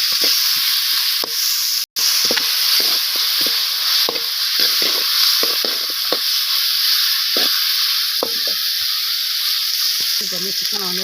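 Onions sauté in a hot pan, giving a loud, steady hiss of frying with soft clicks and scrapes from stirring and one brief dropout.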